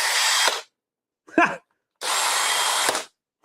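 Bursts of a high-pitched electric drill whine with something loose inside, each lasting about half a second to a second, separated by silences, with a brief clunk between.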